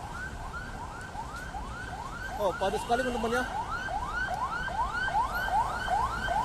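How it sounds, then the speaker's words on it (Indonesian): A wailing ambulance siren sweeps up and down repeatedly over steady city traffic on Jalan Jenderal Sudirman, Jakarta, with a person speaking briefly partway through. "Ada suara ambulan juga."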